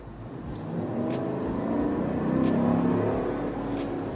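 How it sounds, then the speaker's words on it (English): A Cadillac Escalade Sport Platinum with a 6.2L V8 and a newly fitted cold air intake revs up, a steady, full engine roar that swells and holds close by with no talk over it. "warn me before you mash the throttle"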